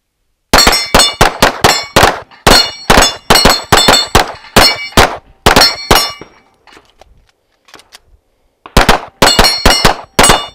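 Gunshots striking the steel plates of an Action Target dueling tree on a shooting range, a loud, close volley of rapid ringing metallic clangs in quick bursts, a short lull with faint sounds, then another fast string of clangs.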